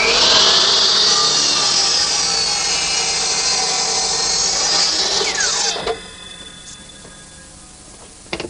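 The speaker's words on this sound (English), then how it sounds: "to square up the ends of the post, I turn to my miter box" A laser-guided miter saw cuts through a wooden bed post with a loud, steady whine for about six seconds, then stops abruptly and spins down, leaving faint shop noise and a couple of small clicks.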